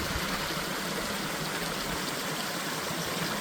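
Water from a small waterfall in a mountain valley stream pours into a rock pool, a steady broadband rushing that carries on unbroken and close throughout, with no voices.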